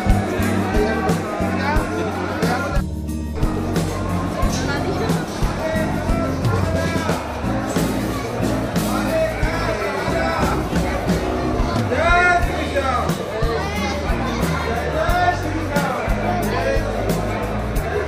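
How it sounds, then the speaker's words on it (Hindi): A dense crowd at Khatu Shyam temple in Rajasthan, with steady babble of many voices, children's chatter and shuffling, close and continuous, with someone talking over the noise. "अभी अंदर काफ़ी भीड़ है"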